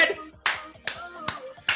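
Five sharp handclaps spaced roughly evenly, about one every half second, sounding close and moderately loud during a Manchester United fan chat, with faint low voices in the background.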